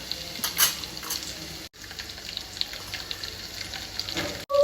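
Garlic and asafoetida with spices frying in hot oil in a pan produce a close, continuous crackling sizzle with scattered spits and stirring scrapes, briefly cut off twice.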